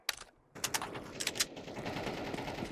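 Rapid bursts of gunfire in Counter Strike 2, quiet and somewhat distant, with several sharp cracks over a rattling background of automatic fire.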